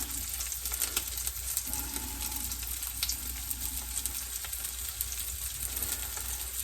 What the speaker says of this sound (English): But I put the cheese on the griddle itself, on the waffle griddle, because it just does better.